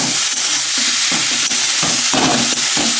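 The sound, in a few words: coconut and date-palm jaggery filling cooking in a kadai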